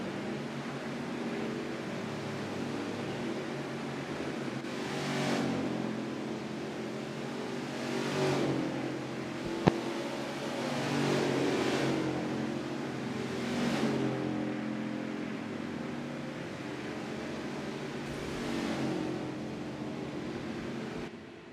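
Race car engines drone around a road course during an Xfinity race at Canadian Tire, several distant passes swelling and fading in turn, with one sharp click midway.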